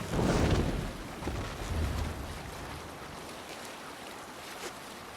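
A Viking longship sails the sea in Assassin's Creed Valhalla: rushing water and wind swell loudly at the start, then settle into a steady wash of waves against the hull.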